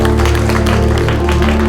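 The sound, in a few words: audience applause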